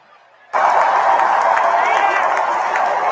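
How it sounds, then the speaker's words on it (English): Loud, dense crowd roar of cheering and applause at the Democratic National Convention, bursting in after a quiet half second and holding steady at full volume. "I need everybody to understand the extent to which this crowd is loud right now."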